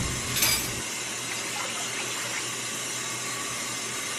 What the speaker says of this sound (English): So water's pretty much boiling